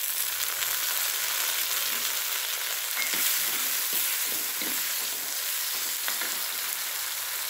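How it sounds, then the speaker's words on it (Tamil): Tomatoes go into a frying pan of hot oil for kothi kulambu, giving a steady, loud sizzle with scattered scraping and stirring clicks throughout. "தக்காளி 2 பழம் தான், அதை போடுறேன்."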